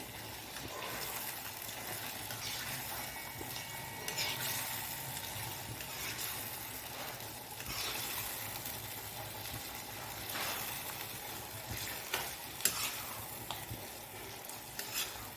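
Boiled bottle gourd is stirred into a sizzling tempering in a pan. A steady frying hiss runs throughout, broken by occasional scraping stir strokes and small crackles, and no one talks.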